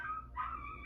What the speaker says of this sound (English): we have some dogs barking outside.